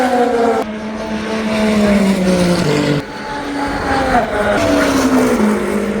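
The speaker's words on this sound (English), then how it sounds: "so we could see the cars flying past us on the straights" Race cars at the Le Mans 24 hours scream past on the straight in quick succession. Each loud engine note falls in pitch as the car goes by, heard from a raised spot above the paddock.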